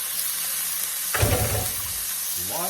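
Cannellini beans tipped into a hot pan with water and sage give a sudden burst of sizzling and crackle that settles into a steady fry, with a brief stirring or scraping sound near the end.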